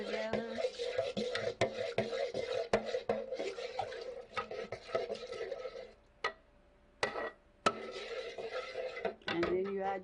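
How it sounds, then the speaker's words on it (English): A spoon stirs homemade bread ingredients in a bowl, giving repeated close clinks and scrapes against the bowl in an uneven rhythm, with short pauses and a voice talking over parts of it. "You stir all this together."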